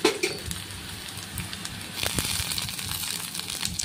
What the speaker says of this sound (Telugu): ఇప్పుడు మనం టమాటా కూడా వేసుకుందాం.